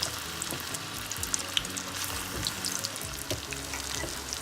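Chicken pieces for chicken 65 fry in hot oil, giving a steady close bubbling sizzle with faint crackles and a few light clinks, no voices.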